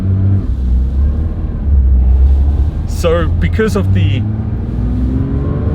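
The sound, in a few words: Porsche 992 S/T engine revving, lightweight flywheel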